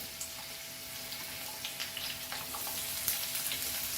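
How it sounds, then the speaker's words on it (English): French beans and other vegetables frying in a pan for veg fried rice, a steady soft sizzle with occasional crackles and stirring clinks running evenly throughout, no talking. "So let's fry our veggies, like the French beans, nicely"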